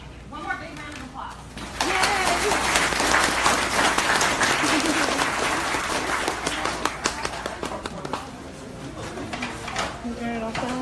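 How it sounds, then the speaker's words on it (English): A crowd at an author's book signing in Nashville breaks into a loud, sustained round of applause, with voices talking before the clapping and again as it thins out. "One more big round of applause."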